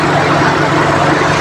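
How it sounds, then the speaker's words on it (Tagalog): A car's auxiliary radiator fan motor spinning fast with the air conditioning switched on, a steady close whirring hum with a low engine drone underneath, continuous and unbroken. "umikot ng mabilis yung auxiliary fan motor natin"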